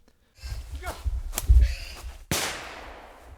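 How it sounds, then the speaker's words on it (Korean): Hunting in wooded mountains for wild boar with shotguns and trained hunting dogs: a sharp crack and a later louder gunshot-like burst with a decaying tail stand out over rustling, with no clear barking. "사냥개 짖는 소리와 총소리가 들리더니"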